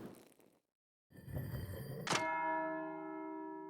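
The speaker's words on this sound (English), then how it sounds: "That's the bell for Sext." A monastery bell ringing for the Sext prayer hour in the video game Pentiment, one clear strike after a low thud, its tone holding and slowly fading.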